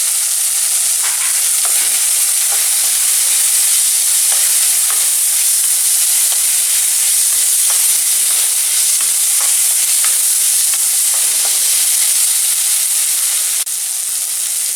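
Gobindobhog rice with cashews and raisins stir-fried in a cooked spice masala, giving a steady bright sizzle with repeated scraping stirs throughout, close and loud with no talking.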